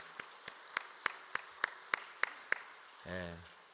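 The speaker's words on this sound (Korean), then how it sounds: "우리 청년들 박수하겠습니다" A church congregation at a Holy Week dawn prayer service in Korea claps in unison, about nine crisp, evenly spaced beats, before a voice begins speaking.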